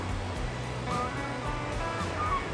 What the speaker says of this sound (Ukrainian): Море холодне і хвилі розбушувалися.